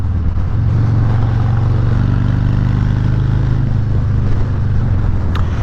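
2019 Harley-Davidson Heritage Classic, still in break-in, cruises at high RPM near the Ruby Mountains, a loud, steady low engine drone with wind rush, continuous and close, no voices.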